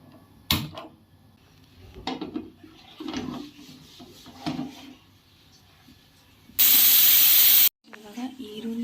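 Pressure cooker holding chickpeas in a home kitchen, sharply venting one loud hiss of steam lasting about a second after scattered soft knocks and handling sounds.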